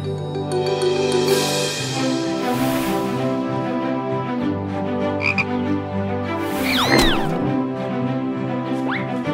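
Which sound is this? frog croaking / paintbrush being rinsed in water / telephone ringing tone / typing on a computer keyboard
frog croaking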